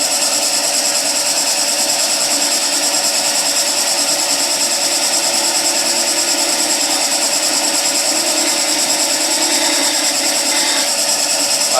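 A skew chisel taking a planing cut on spindle stock turning on a wood lathe, a continuous even whir and hiss from the spinning wood and cutting edge, steady and close throughout with no speech.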